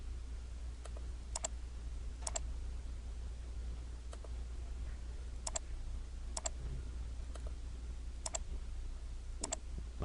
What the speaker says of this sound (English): I'm right-clicking to repeat the last command.